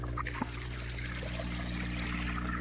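Water trickling and draining steadily nearby, a soft continuous dribble with a few small splashes, under a low steady hum.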